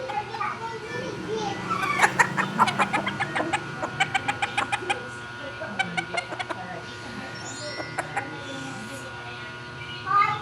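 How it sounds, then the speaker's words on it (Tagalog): Labuyo chickens clucking in quick rhythmic bursts nearby, with children's voices and background chatter mixed in. "Magandang klaseng mga ganito na manok."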